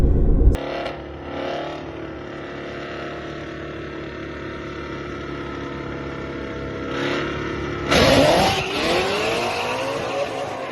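A Ford Mustang GT350 with a Whipple supercharger drives on an unprepped surface, its engine droning steadily before a sharp burst of revving and tire noise near the end, loud and close.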